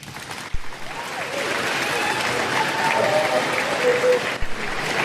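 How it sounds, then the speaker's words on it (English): A crowd applauds and cheers in a dense, sustained wash of clapping that swells and holds at a loud level, with brief sharp thumps near the start and end and voices faintly mixed beneath. "Who's fucking cheering, bro?"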